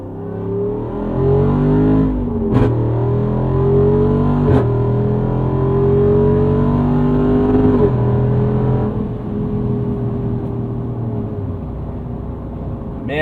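Jeep Wrangler Unlimited Rubicon 392 pulling hard under full throttle, its V8 engine note rising steadily through the gears with shift breaks, loud and close from inside the cabin.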